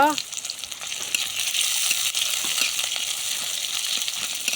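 Chopped onion, garlic and green chili fry in hot oil for a vegetable momo filling, giving a steady close sizzle with scattered small crackles and a few light stirring clicks, and no voices.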